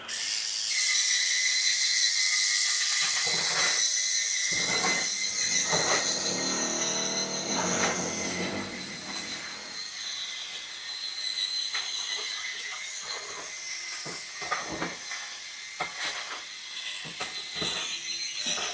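A powered brush attachment scrubs a surface with a loud, close, continuous high whirring hiss that runs throughout, broken by several brief dips and bumps as it moves.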